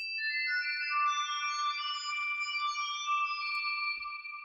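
A high synthesizer melody with external reverb added for a shimmer sound rings out, notes smearing and overlapping into a washy reverberant tail, sustained throughout.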